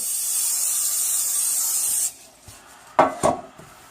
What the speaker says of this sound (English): And you want to take your pan, make sure it's sprayed.